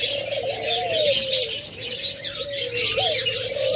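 Several doves coo repeatedly in a bird-sale setting, their low rolling calls rising and falling close by over a steady backdrop of faint chirps and bird chatter, with no one talking.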